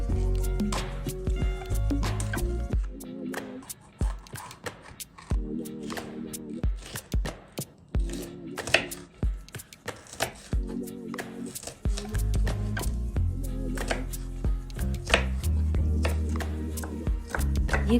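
A knife chops half an onion on a cutting board while shakshuka is being prepared, giving a run of quick, uneven cuts that sit under steady background music.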